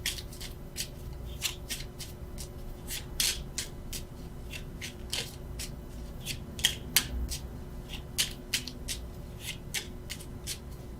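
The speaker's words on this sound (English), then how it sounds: "why I keep shuffling" Tarot cards shuffled steadily by hand, a quick series of crisp riffling snaps over soft rubbing, close and fairly quiet.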